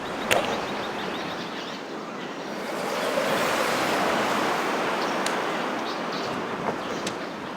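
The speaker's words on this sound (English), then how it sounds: "In golf, you could hear the sounds of the water, the birds chirping above you, and the wind gently blowing" Steady outdoor ambience of rushing water and wind on a golf course in Wii Sports Resort, a broad continuous wash that swells gently in the middle, with a few faint clicks.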